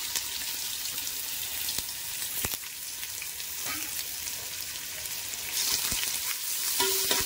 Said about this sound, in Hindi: इसके अंदर हम 3 कांदा जो कटिंग करके रखे थे वो ऐड करेंगे।